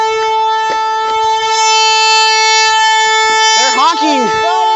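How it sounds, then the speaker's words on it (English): A vehicle horn blares in a loud, continuous tone for several seconds, joined near the end by a wavering, bending second horn or voice-like call. "They're honking!"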